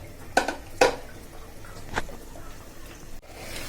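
Yardlong beans coated in turmeric, coriander powder and salt going into hot oil in a pan: a couple of sharp clattering knocks of utensil on pan, then a softer tap, over a faint steady frying hiss.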